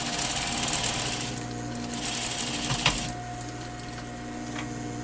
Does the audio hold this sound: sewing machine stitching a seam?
yes